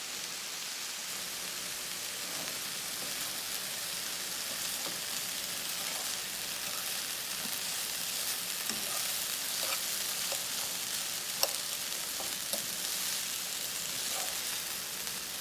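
Frozen chicken lo mein with carrot fries in a pan, giving a loud, continuous hissing sizzle like rain, with occasional light stirring clicks and no talk.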